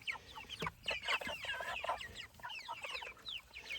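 Several chickens cluck and chatter softly at close range, a busy overlapping run of short calls with quiet rustling underneath.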